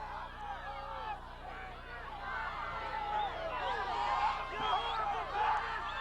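Angry spectators at a boys high school soccer playoff match, a steady murmur of crowd chatter with scattered shouts and whoops rising toward the end, heard from a distance.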